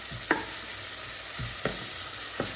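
Chopped onion sizzles quietly in a pan, a soft continuous hiss broken by three or four light spoon scrapes and taps, no one speaking.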